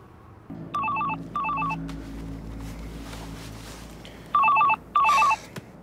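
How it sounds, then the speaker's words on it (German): A mobile phone rings behind a closed door in repeated short electronic bursts, two pairs separated by a pause, muffled and moderately faint over a low steady hum. "Ich hab dein Handy gehört."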